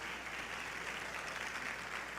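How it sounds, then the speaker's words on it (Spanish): Congregation applauding during a church service, a continuous soft blur of many hands clapping, faint and somewhat distant, steady from start to finish. "Dale un aplauso al Rey de Reyes y al Señor de Señores."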